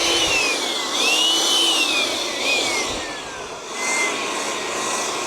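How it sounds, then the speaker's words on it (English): A MekiPow diatomaceous earth duster blower runs with a high whining motor and rushing air, its pitch rising and falling as the trigger is eased, loud and close with no talk. "I am very impressed with this blower."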